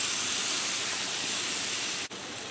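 Eggs poured into a hot pan with broccoli and cauliflower, a loud continuous hiss that suddenly drops away near the end.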